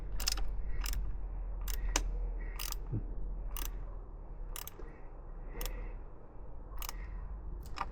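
A socket wrench on an Aprilia Tuareg 660 handguard gives a steady series of sharp ratcheting clicks at a regular pace, close and quiet, over a low background hum, with no talking.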